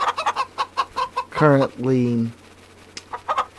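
Chickens in the Farming Simulator 25 game, a loud close cluck and drawn-out squawk rising between bursts of spoken commentary.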